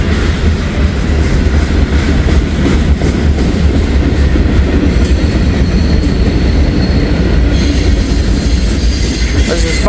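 The 542 freight train bound for Florida rolls past at close range in Walton or Richwood, Kentucky, a loud, steady rumble of wagons with rhythmic wheel clatter and occasional squeal throughout.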